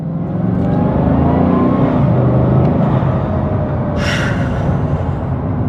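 A carbon-bodied Bugatti Divo with its W16 engine drives on the road, a loud, steady low engine roar filling the cabin with a brief hiss of air partway through.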